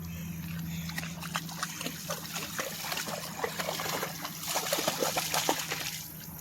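Water sloshes and splashes unevenly as a dog moves through it, with scattered drips and a steady outdoor hum in the background.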